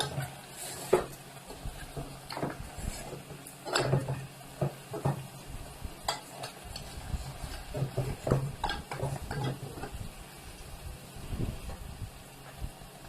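Ginger and garlic frying with a soft sizzle under frequent spoon scrapes and clinks against the pan, irregular stirring throughout, no speech.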